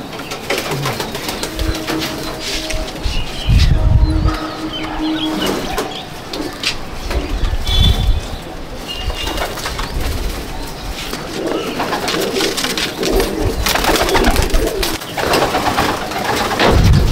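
Close, steady cooing from a group of pigeons kept in a loft at Icchapur, North 24 Parganas, layered calls overlapping throughout with occasional wing and perch noises and no talk.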